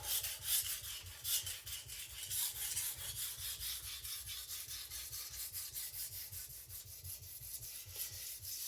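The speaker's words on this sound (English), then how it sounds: "I'm lightening the pressure now to basically a little tiny bit more than the weight of the knife, because now I'm nearing creating the edge." A MagnaCut chef knife is drawn across a sharpening stone under light pressure, making a continuous rhythmic rasping scrape with even back-and-forth strokes, close and steady.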